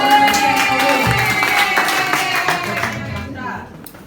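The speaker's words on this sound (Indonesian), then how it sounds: "Tepuk tangan untuk" Members at a military cooperative's annual meeting clap together, a lively burst of hands with a few distinct claps and background voices, tapering off and fading toward the end.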